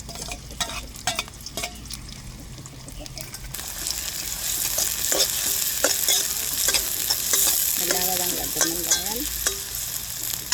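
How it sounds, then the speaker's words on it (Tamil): Fennel seeds and onions frying in hot oil, a steady close sizzle that swells louder partway through as the onions go in, with occasional clinks and stirring scrapes of a spoon against the pan. "எண்ணெய் சூடாகிட்டு நான் பெருஞ்சீரகம் சேர்த்துக்கொள்கிறேன். இதோட நான் வெங்காயங்களையும் சேர்த்துக்கொள்கிறேன்."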